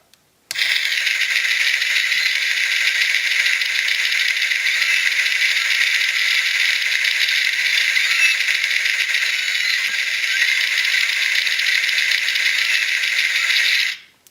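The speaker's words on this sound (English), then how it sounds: "That one just a barrage of gunfire." A NECA RoboCop ED-209 toy robot's electronic gunfire effect blasts as one long, loud, rapid rattling barrage for about thirteen seconds, then cuts off abruptly.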